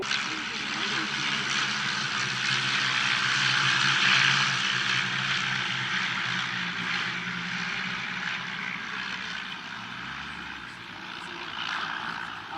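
A Swordfish biplane's propeller engine drones steadily as the plane flies past, a continuous rumbling hum that swells slightly and fades.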